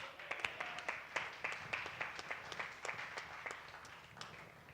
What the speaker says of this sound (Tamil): கைத்தட்டு போடு